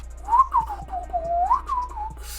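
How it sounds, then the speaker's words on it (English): A single melodic whistle from an anime character, rising and falling in a short tune with a few tremolo wiggles, close and clear, with no talking. "looks away, whistling"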